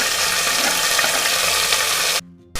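Tomato frying for methi pulao, a loud steady sizzle and crackle of oil in the pan that runs close and continuous, then cuts off abruptly near the end.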